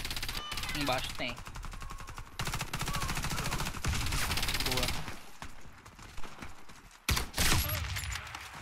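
Heavy automatic gunfire from the Warface online shooter game, with rapid bursts and single shots rattling loudly through most of the stretch, a brief pause near the end, and a player talking over the shooting.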